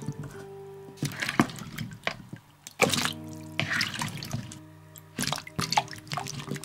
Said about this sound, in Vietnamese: Sau đó cho hết qua thau để rửa.